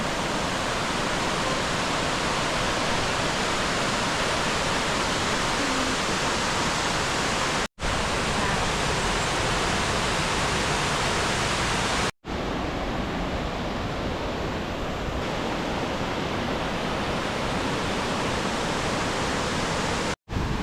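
The waterfalls at Rastoke village in Croatia give a loud, steady broadband rush of falling water that fills the whole scene without pause and with no voices.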